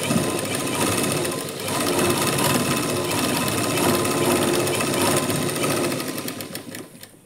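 Sewing machine stitching a lining blouse, a fast, steady mechanical rattle running continuously at close range, easing off and fading near the end.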